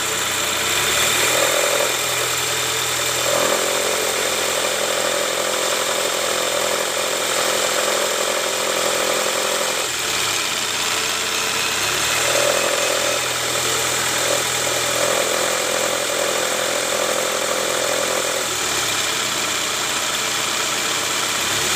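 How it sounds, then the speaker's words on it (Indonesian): A 2005 Toyota Camry 2AZ engine idles steadily up close, with a gritty rumbling growl from a worn belt tensioner that swells and eases in repeating cycles. "Lalu tensioner ini karena dia bunyi ngorok ya."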